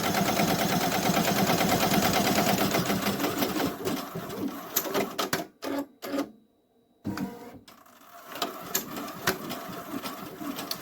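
A Ricoma EM1010 embroidery machine stitches a custom letterman jacket with a loud, rapid, rattling needle drive close by. After about five seconds it stutters into bursts and brief pauses, then resumes.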